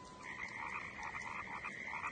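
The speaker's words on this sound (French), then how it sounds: "J'entends d'autres grenouilles." Frogs croak in a steady, continuous chorus, with overlapping calls from several animals forming a dense hum, heard alone at moderate distance.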